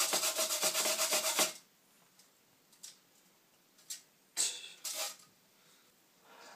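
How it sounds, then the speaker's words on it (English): Lemons rubbed against a grater for zest give a brief burst of steady close rasping, followed by quieter scattered scrapes and handling noises in a kitchen. "So you're just going to grate the lemons now"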